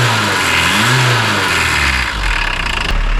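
A Volkswagen Rabbit pickup truck's engine revs up and falls back close by, loud and rough, then settles toward idle with no one talking over it.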